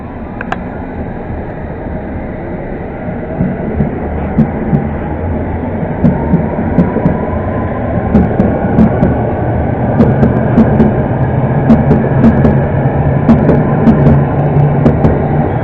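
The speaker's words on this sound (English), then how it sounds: "here comes the Harrow on the Hill train" A London Underground Metropolitan line train pulls into Pinner station bound for Harrow on the Hill, a steady rumbling roll that builds and grows louder over the platform, with faint squeals and clicks near the end.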